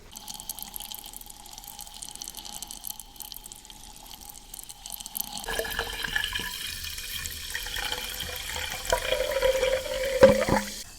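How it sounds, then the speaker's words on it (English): Perrier sparkling water poured into a glass, a gentle close splash followed by a steady fizzing crackle of bubbles, with no one talking. "I'm gonna pour it in the glass now."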